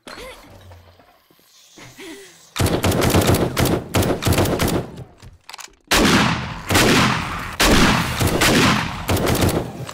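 Shotgun blasts in the zombie survival game 7 Days to Die, a rapid string of loud, sharp booms in close bursts after a quieter opening, with brief pauses between volleys.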